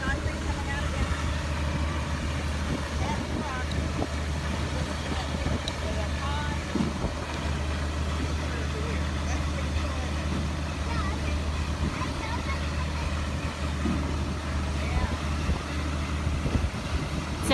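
Concrete trucks running at a farm house pour site give a steady, low diesel rumble throughout, with wind buffeting the microphone and faint background activity.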